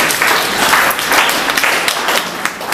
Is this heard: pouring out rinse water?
no